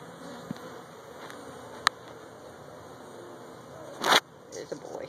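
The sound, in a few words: bees buzzing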